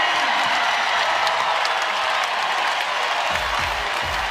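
A college basketball arena crowd at a women's game erupts in loud, sustained applause and cheering. The dense, roaring wall of clapping holds steady throughout.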